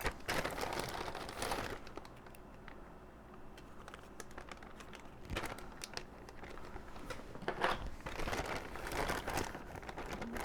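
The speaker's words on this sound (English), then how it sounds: "You can probably hear the bag rustling that I keep them in." A plastic bag rustles and crinkles in irregular bursts as someone digs through it searching for IDE cables, loud and close throughout with sharper crackling peaks.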